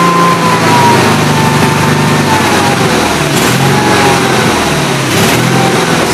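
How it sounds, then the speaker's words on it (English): A Gravely 8163-T tractor engine runs steadily and loudly at low throttle, its note surging and wavering in uneven pulses, with no voices over it. "anything down below half throttle, it kind of surges"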